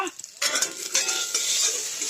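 Kushi frying in a pan on a makeshift home cooking spot, a close sizzle that swells after a few light clinks of a utensil, with stirring scrapes throughout.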